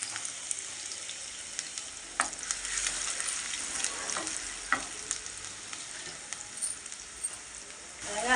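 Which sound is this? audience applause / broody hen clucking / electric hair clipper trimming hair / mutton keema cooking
mutton keema cooking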